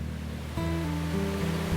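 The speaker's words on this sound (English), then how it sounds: "What you're seeing the water come out of is called a cone valve, and all it does is dissipate the energy that's from the head in the dam" Water roars out through a cone valve at the Pueblo Dam hydro plant, a loud, continuous rushing wash joined halfway through by steady low mechanical hums, with no voices.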